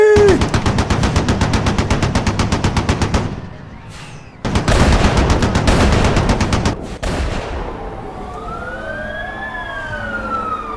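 Machine gun fire as a comedy sound effect: two long, rapid, even bursts of loud shots, broken by a short pause, then a whistling, rising and falling tone as the shots stop.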